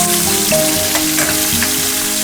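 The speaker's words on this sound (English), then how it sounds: "Shrimp's going in now." Shrimp dropped into hot canola oil in a pan for lo mein, a loud, close, continuous sizzle with light crackling throughout.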